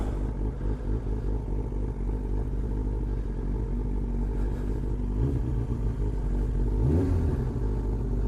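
A Kawasaki Ninja ZX9R motorcycle engine, exhaust baffle removed, idles with a rough, throaty rumble, giving a couple of short revs near the end, close and steady throughout.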